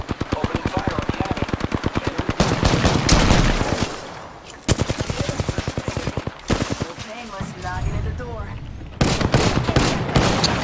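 Automatic gunfire in the battle royale game Apex Legends, rapid loud bursts of shots in several volleys with short gaps between them, fired near the ring's edge, with a voice talking faintly underneath.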